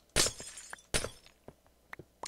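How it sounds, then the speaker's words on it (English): Ice blocks breaking in Minecraft with the glass-shatter effect: two loud, bright crashes, each trailing into tinkling fragments, followed by several fainter clinks and taps. "It makes the glass breaking sound."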